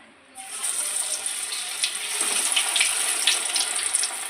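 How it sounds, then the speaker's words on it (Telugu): Cornflour-coated fish pieces sizzle in hot oil, a dense steady hiss with crackling pops that starts abruptly and holds at a moderate, close level throughout. "ఇప్పుడు ఆయిల్లో వేస్తున్నాను."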